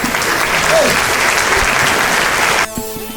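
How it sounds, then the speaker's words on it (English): Loud clapping and cheers from a small group for a guest on a podcast, dense and steady, then cutting off abruptly near the end as talk resumes. "Round of applause for K.L.M."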